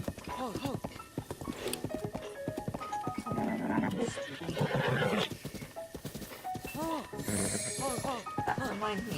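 A horse in the video game Breath of the Wild neighs and whinnies several times, clip-clopping hooves mixed in, with the sounds layered over game music and ambience.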